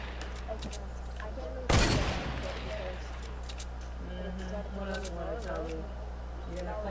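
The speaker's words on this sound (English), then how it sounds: "I got enough bullets to shoot it down" A loud burst of gunfire strikes once in a sniper shooter video game, aimed at a player's tall build, followed by faint clatter and game noise while people talk over it.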